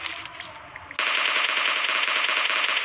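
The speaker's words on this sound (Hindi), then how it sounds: "देखना मैं स्कार लेता हूँ और इसका सर दिखता है मेरे को, 2 से 3 हेडशॉट मारता हूँ बंदे के" Rapid automatic SCAR rifle gunfire in PUBG Mobile Lite, a dense continuous burst that starts abruptly after a second of quieter game ambience, loud and close with no talking.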